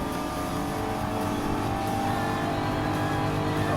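A race car in Gran Turismo Sport roars at high revs as it accelerates along a track during a Tourist Trophy event, a loud, steady engine drone that fills the whole stretch without voices.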